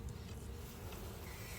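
Honeybees hum softly on hive frames, a faint, continuous buzzing drone of many insects close by, with no voices.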